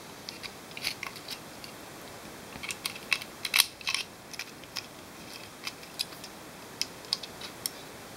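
Electronic disc brake lock for a motorcycle (model 1206) being handled: a series of small sharp metallic clicks and ticks as it opens and a key is turned and pulled out, close and fairly quiet.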